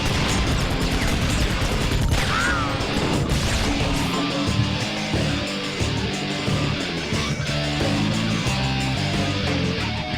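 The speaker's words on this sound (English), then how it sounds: "It really is a lot of fun to kick turrets into people's faces." Iji turrets being kicked into enemies during combat, a dense loud barrage of smashing crashes and thuds layered over game music, continuous throughout.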